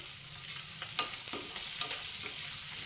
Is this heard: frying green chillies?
yes